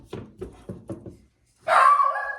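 A protective dog on a ranch barks five times in a quick, evenly spaced series, then after a short pause gives a sharper, louder, drawn-out bark or yelp, close by.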